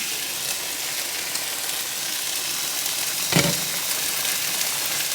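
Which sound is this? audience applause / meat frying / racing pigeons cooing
meat frying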